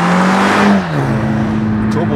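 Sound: Toyota GR Supra 2.0 four-cylinder engine accelerating in sixth gear

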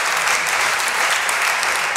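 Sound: audience applause on a Tunisian talk show

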